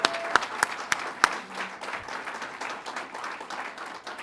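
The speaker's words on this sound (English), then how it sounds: "Let's give her a round of applause" Applause for a city mayor at a political campaign event opens with a few sharp, distinct claps. It then thins into a softer, scattered patter of clapping from a crowd that fades lower.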